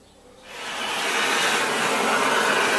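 A stainless steel cone is welded onto the bottom of a milk tank, producing a steady, loud broadband hiss that starts abruptly after a brief quieter moment and continues unbroken.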